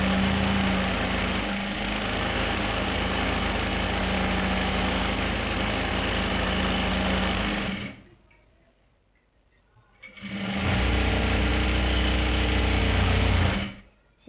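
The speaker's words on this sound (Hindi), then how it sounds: "पहले इन 2 कलियों पे भी सिलाई लगा लेंगे इस तरह से ही" Steady motorized whir of a sewing machine stitching lehenga panels cut from salwar fabric, running continuously, pausing for a couple of seconds of near-silence, then resuming at the same even rhythm, close and fairly loud.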